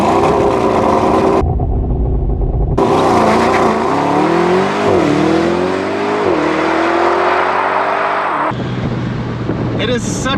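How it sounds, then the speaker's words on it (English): A 2024 Mercedes SL63 AMG launches hard with launch control from a standstill, its engine roaring loud and close as revs climb and drop through gear shifts, with wind rush over the top and a short quieter gap early on. "So doing launch control is super simple."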